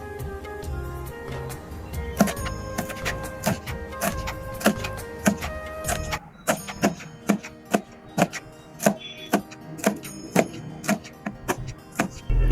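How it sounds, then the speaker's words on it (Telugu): A knife finely chops coriander on a board in a home kitchen, a steady series of crisp, evenly spaced taps, close and clear with no talking. "కొత్తిమీర గిట్లా సన్న సన్నగా కట్ చేయాలి."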